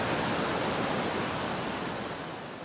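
Water released from a BC Hydro dam in Desolation Sound rushing in a continuous broadband roar, steady and loud, slightly easing toward the end, with no voices.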